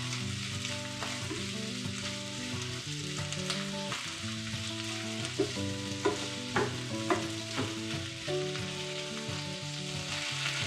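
Bell pepper stir-fried in a hot pan with oil, scallion, ginger and garlic, a steady sizzle with occasional clinks and scrapes of stirring under a continuous musical background, no talk.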